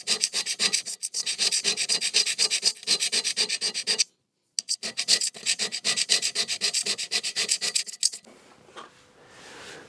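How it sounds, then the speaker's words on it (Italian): Light, rapid strokes of a hand scraper on a metal surface, a fast rasping rhythm in bursts with a short pause near the middle, then fading into a quieter hiss; no speech. "Il raschietto è molto sensibile, si sente, non applico molta forza, sono molto leggero sul raschietto."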